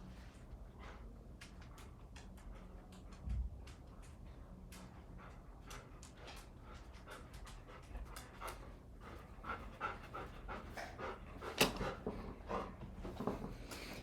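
A dog panting quickly and rhythmically close by, quiet at first and growing slightly louder, with a few light clicks and thumps mixed in and no talk.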